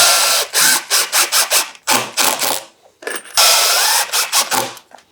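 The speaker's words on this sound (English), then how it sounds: "I'm gonna use them with the special drill bit, secure the frame together" A power drill drives finish head screws with a special bit to secure a pocket door frame, whirring in loud repeated short bursts with brief pauses, close up and alone.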